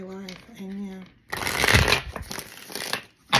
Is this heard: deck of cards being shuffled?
yes